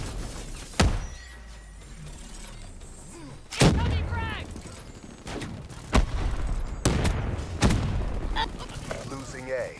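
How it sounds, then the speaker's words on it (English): A frag grenade explodes in Black Ops 3 amid combat, with several heavy booms and gunfire blasts punching out every few seconds over a busy battle backdrop and faint in-game voices. "Incoming frag!"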